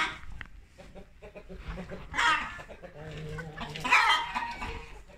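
A hen that has just laid an egg clucks and cackles loudly nearby in agitated bursts, rising to a squawking peak, with other fowl murmuring in the background.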